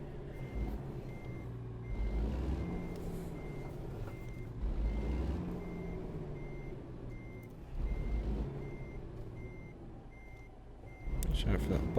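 In American Truck Simulator, a sleeper truck backs up with a steady electronic reversing beep repeating evenly throughout, over a low diesel engine rumble, with a hiss of air brakes at the end.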